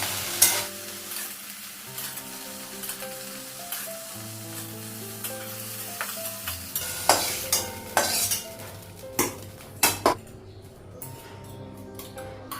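Potato and okra sizzling in a frying pan while being stirred, a constant close sizzle punctuated by sharp clinks and scrapes of the utensil against the pan, growing more frequent toward the end.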